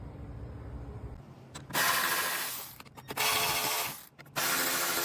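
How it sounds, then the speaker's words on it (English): Ratchet wrench backing out 10mm bolts on a truck bumper behind the grille, heard as three bursts of rapid mechanical clicking and rasping, close and fairly loud, separated by short pauses. "we're going to go ahead and start removing this by removing these 10mm bolts"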